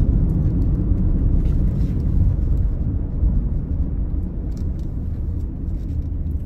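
A 2017 Ford Transit Custom 2.0L van driving over road bumps, a close, steady low rumble of engine and road noise with faint knocks and rattles from the cabin.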